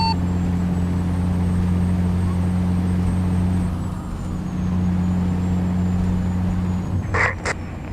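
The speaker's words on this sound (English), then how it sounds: "Now, somebody rode the Jake. I did hear one of you." A heavy truck in American Truck Simulator drones loudly with a steady low engine hum, easing for a moment midway, with a brief burst of brake hiss near the end.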